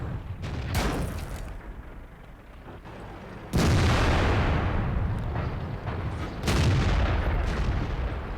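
Heavy tank cannon shots and armor ricochets in World of Tanks, featuring an American T32 heavy tank: loud booming blasts with long rumbling decays, two especially sharp, powerful shots standing out over continuous battle noise.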